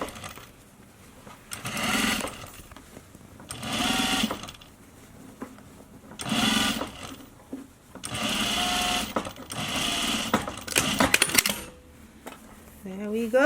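Sewing machine stitching a half-inch channel in a fabric face mask, heard in four or five separate bursts of stitching with short pauses between them and soft handling noise in the gaps.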